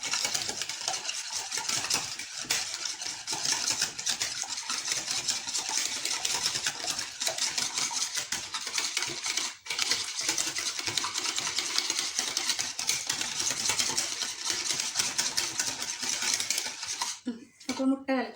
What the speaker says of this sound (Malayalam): ഇത് നന്നായി ഒന്ന് കലക്കി വെക്കണം